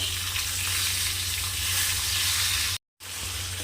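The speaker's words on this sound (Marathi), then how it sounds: "आता आपण आलू फ्राय करून घेऊया यामध्ये स्लो आचेवर" Potatoes frying with coarsely crushed coriander seeds and cumin on low heat, a steady close sizzle with a low hum underneath, cut by a brief dropout near the end.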